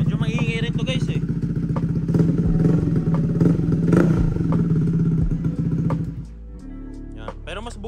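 A Honda PCX 160 scooter fitted with an open exhaust pipe starts and runs loudly up close, its rough, raspy engine note holding steady, then easing to a lower idle near the end.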